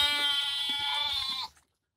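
Goat bleating while being fed guava juice, one long, loud, wavering bleat close by that cuts off abruptly into silence.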